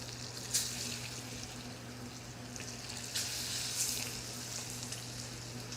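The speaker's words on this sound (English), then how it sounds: "let's go ahead and add the fish to the pan" A fish fillet, its milky white presentation side, sizzles in a hot pan with a faint, even crackle and a few sharper pops.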